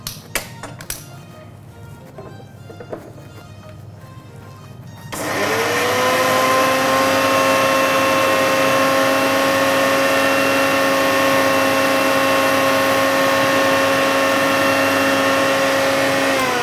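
An electric blender grinds spinach with a little water. Some light tapping and handling come first, then the motor starts abruptly at about five seconds and runs as a loud, steady whine to the end.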